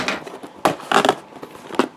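Scissors cut along the side of a cardboard Lego set box in short crisp snips and scrapes, close and fairly loud, with uneven pauses between strokes.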